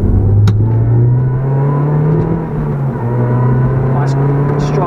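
A Toyota Yaris GRMN hot hatch pulls hard from inside the cabin, its engine droning and rising in pitch as it accelerates, loud and steady throughout.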